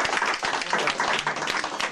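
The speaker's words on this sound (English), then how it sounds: "Give him a round of applause." Audience applause for a man's 80th birthday at a 1999 Basingstoke show, a dense steady patter of many hands clapping close and loud throughout, with faint voices mixed in.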